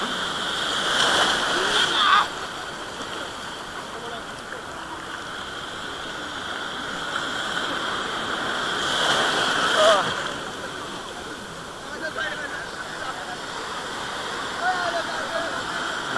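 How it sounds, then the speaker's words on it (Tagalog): Strong waves washing and splashing at a river mouth, a steady rushing roar with two louder surges, while people talk over it. "medyo malakas yung alon."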